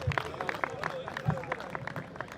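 Crowd applause at a Faiz peace fair held at the Cosmopolitan Club in Lahore, a brief burst of claps mixed with crowd noise and a voice talking over it.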